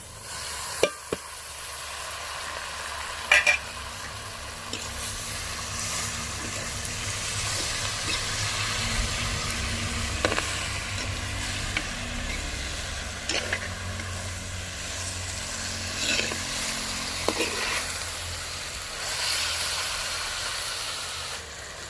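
Onions and green chillies sauté in a pan for agathi keerai poriyal, giving a steady soft hiss and sizzle with a few faint scrapes and stirs, and no talking.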